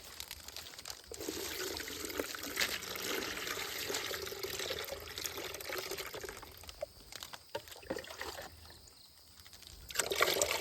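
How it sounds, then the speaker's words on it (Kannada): About two litres of water are poured into a pheromone trap for coconut red palm weevil. A soft, steady splashing pour runs at low level for most of the stretch, then becomes louder near the end. "ರೈತರು ಈಗ ಅದಕ್ಕೆ 2 ಲೀಟ್ರ್ ನೀರು ಹಾಕ್ತೀವಿ"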